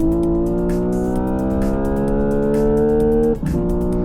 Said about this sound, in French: On simule la sonorité du moteur pour vous donner une impression de performance, d'engagement.